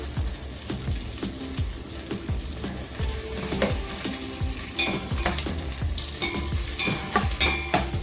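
Ginger and garlic frying in oil for Chennai-style bagara rice give off a steady sizzle, broken by repeated scraping stirs of a spoon against the pan and a few metallic clinks near the end.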